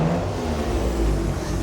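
A Mitsubishi GTO twin turbo engine revs steadily at close range, a loud continuous low rumble and whir holding for about a second and a half with no talk over it.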